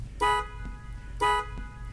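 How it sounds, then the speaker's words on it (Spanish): An electric car horn sounds twice after a relay replacement, two short, evenly spaced honks with a bright electric buzz, close and loud, with quiet background between them. "Después de reemplazar el relay con un nuevo, nuestro claxon funciona perfectamente."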